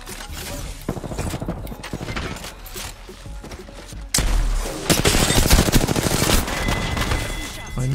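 Video game gunfire crackles in rapid bursts and sustained automatic volleys, sharp and loud, growing denser in the second half. Voices talk faintly underneath.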